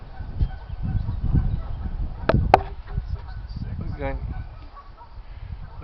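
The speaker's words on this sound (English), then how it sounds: "And the geese are happy." Geese honk at Antietam National Battlefield near an observation tower, a few scattered calls and a short rapid run of honks heard over outdoor wind noise and faint background talk.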